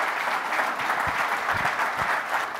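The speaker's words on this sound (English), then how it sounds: "A round of applause." Audience applause at a business conference livestream in New York, a loud, even wall of many hands clapping that holds steady throughout.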